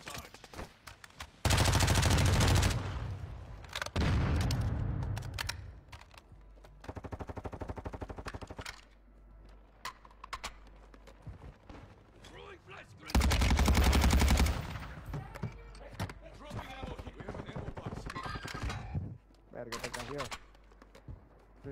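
Automatic gunfire in a first-person shooter game, loud bursts and sustained volleys alternating with shorter shots, while players talk over the action.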